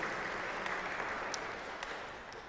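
An audience applauds steadily for a woman at a Catholic oratory gathering, a dense continuous patter of many hands that holds at an even level and fades slightly toward the end.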